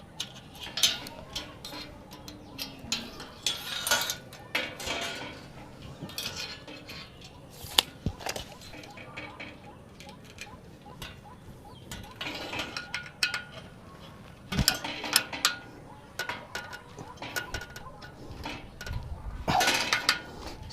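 Metal elements of a small three-element Yagi FM antenna get tightened onto a wooden boom, giving irregular close clicks, ratcheting turns and light metallic clinks with quiet gaps between bursts.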